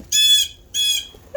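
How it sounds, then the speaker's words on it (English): A pet bird squawks twice up close, two loud harsh calls each under half a second, separated by a short silence. "But my bird is yelling."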